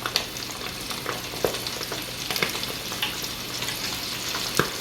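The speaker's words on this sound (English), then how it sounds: "Start dropping them shrimp in that grease." Shrimp frying in hot grease for po'boys, a steady loud sizzle and crackle with occasional pops, close up and alone with no talk.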